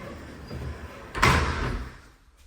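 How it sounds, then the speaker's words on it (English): Sliding closet doors in a two-bedroom laneway house, a soft rolling glide followed by a firm bump as a panel reaches its stop, close and alone in a quiet room. "Sliding doors to save space."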